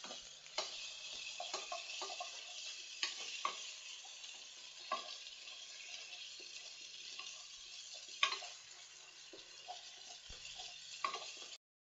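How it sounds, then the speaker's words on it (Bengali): Garlic, ginger and cumin paste is stirred in a frying pan, a soft continuous sizzle broken by scraping strokes and occasional utensil taps against the pan, close and quiet, with no voices. "রসুন বাটা এক টেবিল চামচ আদা বাটা এক টেবিল চামচ এবং জিরা বাটা এক টেবিল চামচ নাড়াচাড়া করলাম"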